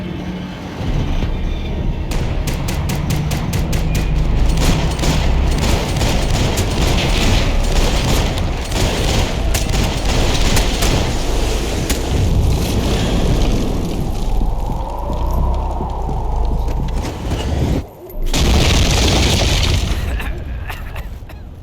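Gunfire in a Max Payne 3 video game cutscene: dense bursts of cracking shots and booming impacts fill the scene at loud, steady intensity, with people shouting over them and a brief drop near the end.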